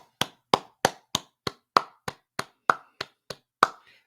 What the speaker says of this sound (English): All men, thank yourself. Give yourself a round of applause.